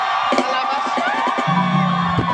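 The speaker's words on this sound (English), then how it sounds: "If you can scream, somebody scream." A church congregation at a lively worship service shouts and cheers together. Crowd voices are loud and continuous over sustained music and a singing voice.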